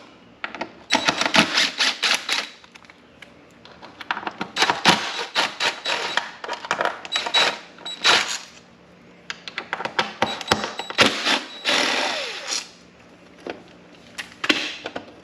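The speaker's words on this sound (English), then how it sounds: "They're 4mm Allen screws. Unscrew these." Hex tool clicking and ratcheting against 4mm Allen screws while they are unscrewed from the side cover of a Kawasaki Vulcan 1700 motorcycle, close up, with repeated bursts of metallic scraping and ticking separated by brief pauses.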